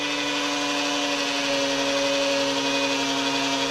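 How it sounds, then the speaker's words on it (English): Power drill spinning the oil pump to prime a big block 454 engine, a steady loud high-pitched motor whine held continuously without pause, close up. "I don't know if this drill's gonna hold up or not."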